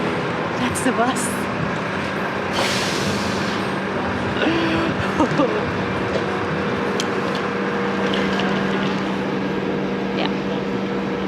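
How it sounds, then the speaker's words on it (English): Bus idling and moving at a Scottish stop, a steady low engine rumble with passing traffic, under nearby talk. "That's the bus."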